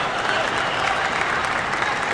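A crowd at a table tennis match at the 2025 Asian Championships cheers and applauds in a dense, continuous roar that holds steady and loud throughout.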